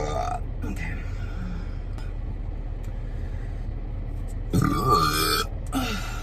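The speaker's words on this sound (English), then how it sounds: "Oh, there's burps." A woman lets out deep, drawn-out burps, the loudest near the end, over low background rumble, with chatter in between.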